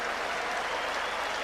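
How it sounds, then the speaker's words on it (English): A stadium crowd applauds the players at a 1999 Wales versus South Africa rugby match, a dense, even roar of clapping heard from a distance with no voices over it. "The boys are taking in the applause"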